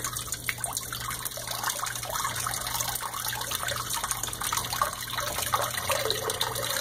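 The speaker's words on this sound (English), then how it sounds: "now you can see the water starting to pump out of the grow bed into the fish tank, and it's starting to dribble into the sump tank" Water from an aquaponics grow bed pumps out and dribbles into a sump tank, giving a steady, continuous trickling and splashing wash that stays fairly close throughout, with no voices.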